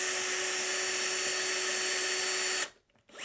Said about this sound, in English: just drill a starter hole there, and yes, drill a starter hole here, and one in the middle